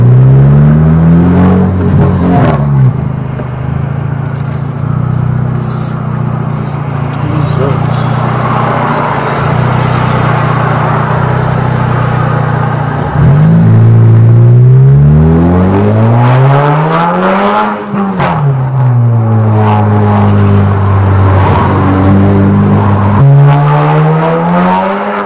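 A loud MK6 Volkswagen GLI engine revs hard, rising and falling repeatedly through the gears, with a whirring turbo whine over the roar.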